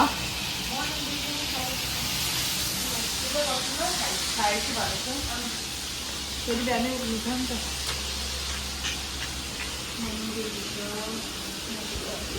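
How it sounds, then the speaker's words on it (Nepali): Green chillies fry for achar with a broad, steady hiss and sizzle all the way through, while a person talks over it. "त्यहाँदेखि हाम्रो खोर्सानी फ्राई हुन्छ"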